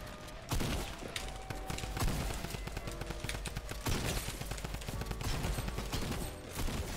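Sustained video game gunfire in a fast 1v1 fight, dense rapid bursts of shots that keep going for several seconds with brief dips between volleys.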